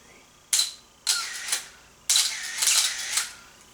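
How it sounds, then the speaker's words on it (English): Camera auto winder advancing film after shutter releases, several close mechanical whirring bursts with short gaps, each a quick motorized buzz, no speech. "That's the auto winder on there."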